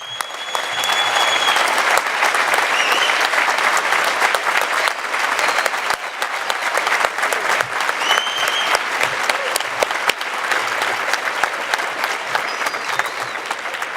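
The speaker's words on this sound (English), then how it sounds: "so that we can give you a wonderful round of applause" A large commencement audience applauds an honor society's members, sustained dense clapping that stays loud and steady throughout, with a few faint voices mixed into the crowd.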